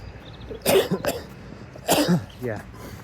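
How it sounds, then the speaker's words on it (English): Two short, harsh coughs close to the mic, about a second apart, followed by a softer throaty sound. "just a bit of a cough"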